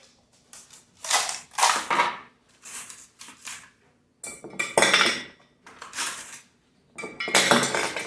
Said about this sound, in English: I'm going to put ice in my pitcher